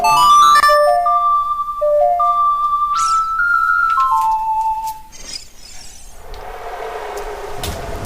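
Ocarina melody from Zelda: Ocarina of Time, a clear sequence of sustained whistle-like notes in a steady rhythm, followed by a burst of rain and thunder-like noise near the end.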